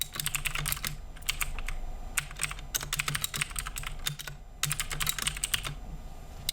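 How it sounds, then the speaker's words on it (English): A computer keyboard clatters as a list of stock tickers is typed in, quick bursts of keystrokes separated by short pauses, close and fairly quiet, with no talking. "This is just a basic list. I'll type it in here real quick."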